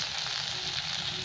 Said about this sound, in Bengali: মশলাটা ভালো করে ভেজে নেবো আমি সবটা একসাথে